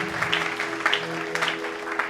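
A church congregation applauds during a French-language sermon, a steady wash of clapping from many hands filling the room, moderately loud and even, with a low hum beneath.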